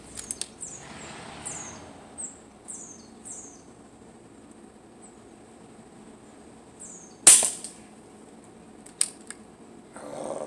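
Shots from a Hatsan Tackdriver air rifle fired outdoors at trainers hanging on a highline wire, heard as a few sharp, fairly distant cracks and impacts spread over a quiet stretch, one standing out loud near the middle.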